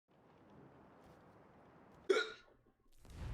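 A single sharp hiccup, likely from a character in Assassin's Creed IV, bursts out loudly over a low rumble of ambient game noise, followed by a short pause before the background returns.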